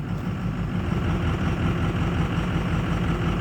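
A 2006 Ford F250 Super Duty with the 6.0 Power Stroke diesel idles rough, putting out a steady, loud low-pitched rumble that holds without a break.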